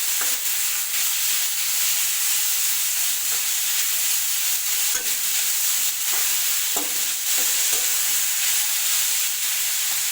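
Shredded cabbage sautéing with onion and tomato in a hot pan for semiya upma, a steady bright sizzle broken by scraping stir strokes, close and with no talk.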